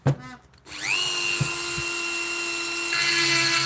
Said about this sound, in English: So the Dremel again now, getting them to the corners as close as possible.